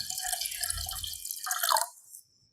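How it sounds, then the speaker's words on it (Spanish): Water poured into a singing bowl during a talk on harmonic sound in health: a close, steady splashing trickle for about a second and a half, with a brief brighter ringing splash before it fades to silence. "en un cuenco le echamos agua."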